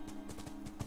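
Horse hooves clip-clop steadily while riding in The Last of Us video game, a quick run of soft, rhythmic hoofbeats at low level.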